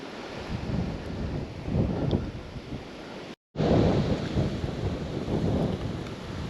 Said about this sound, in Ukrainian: А вітер такий звіявся, як, як і передавало. На 9 метрів дуже сильний.